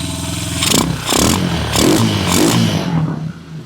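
Honda Hawk 250 motorcycle idling with a NIBBI carburetor fitted, a loud, close, throbbing engine note with a noticeable intake tone, rising and falling slightly in surges, with some wind buffeting and no talking.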